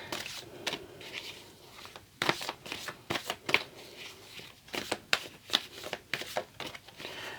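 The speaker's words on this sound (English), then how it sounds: "Just going to do a quick shuffle here." Tarot cards being shuffled by hand at close range, quiet riffling bursts and soft slaps in an irregular rhythm, alone without talk.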